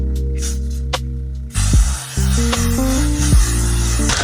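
A few sharp hissing bursts of Elf setting spray misted onto a face, the spritzes arriving close and loud over a brief clip, with no talking.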